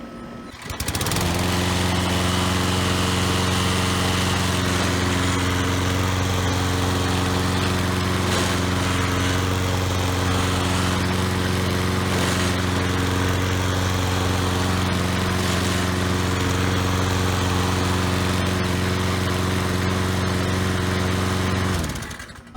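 A Troy-Bilt lawn mower engine, pulled off the curb and being repaired, fires up and runs loudly and steadily for about twenty seconds in a continuous buzzing drone, close by, before shutting off.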